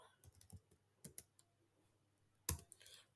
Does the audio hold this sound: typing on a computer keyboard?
yes